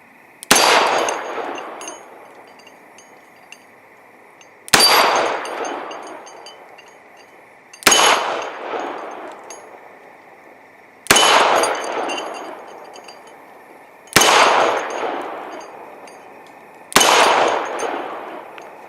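Six shots from a Colt Official Police .38 Special revolver fired double action at a range, each a loud, sharp crack with a long ringing decay, spaced evenly a few seconds apart.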